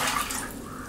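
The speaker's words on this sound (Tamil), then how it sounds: "தண்ணி 1/2 லிட்டர் அளவுக்கு குக்கரில் ஊற்றியிருக்கேன்" A brief splash of water pouring into a metal pressure cooker, close and bright, lasting under a second.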